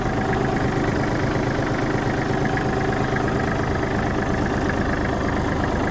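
A Kubota GT19 Japanese mini tractor idles steadily, its small engine giving a constant, even chugging drone that stays loud and unchanged throughout with no talking.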